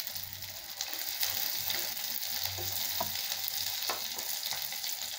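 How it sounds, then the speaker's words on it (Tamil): Sliced onions and garlic sauté in hot oil in a pan for a tamarind curry, a steady crackling sizzle with scraping stirring strokes throughout, no talking. "நல்லா வதக்கி விடலாங்க. நல்லா வதங்கட்டுங்க."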